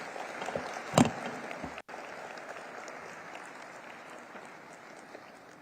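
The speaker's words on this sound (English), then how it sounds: "can we have a big round of applause for Shri Tuhin Kanta Pandey" Applause from an audience at a ceremony celebrating 30 years of NSE Clearing, a sharp burst near the start settling into steady, moderately distant clapping that fades slowly.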